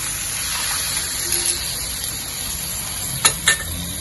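Vegetarian lo hon jai being stir-fried in a wok with sauce mix, bean curd oil coating the ingredients; a steady, close sizzle and hiss runs throughout, broken near the end by two sharp clanks of the spatula.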